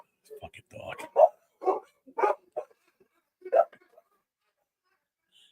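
A dog barks in short bursts, several close yips and woofs spaced irregularly over a few seconds, then stopping.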